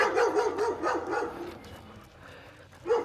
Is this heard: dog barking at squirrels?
yes